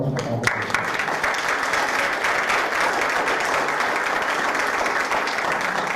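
Audience applause at the close of a talk, a dense, steady wash of many hands clapping that holds evenly for several seconds, loud and sustained without speech over it.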